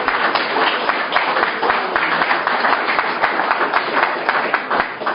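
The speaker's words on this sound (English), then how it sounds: "So a big round of applause for the landlord." A crowd in a pub venue applauds the landlord, steady dense clapping filling the room throughout without pause.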